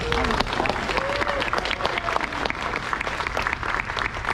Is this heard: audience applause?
yes